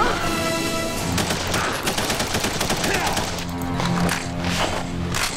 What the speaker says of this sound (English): I just stun grenaded myself.